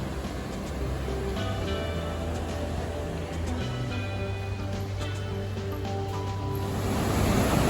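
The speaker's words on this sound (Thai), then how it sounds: "อันนี้น่าจะเป็นหัวของน้ำตกนะครับ" Rushing water at the head of a waterfall in Khao Yai, Nakhon Ratchasima, Thailand, a steady broadband roar that builds slightly toward the end, with faint tonal hum and no talk.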